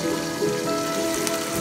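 Eggplant braising under a lid in a covered wok over low heat, giving a steady soft crackle and patter like light rain, continuous and close with no voices.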